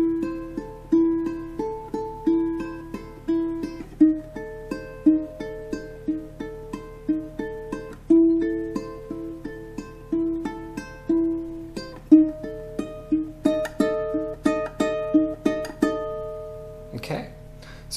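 A ukulele fingerpicks the opening four bars of a song slowly, with clear plucked notes in a steady, gentle rhythm, each note decaying before the next, ending in a brief strum.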